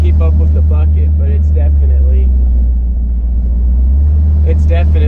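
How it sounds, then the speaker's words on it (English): A 1929 Ford Model A hot rod fitted with Corvette parts accelerates, its engine a loud, steady low rumble close by with a brief dip in the middle, while someone talks over it. "we'll give you a quick little acceleration"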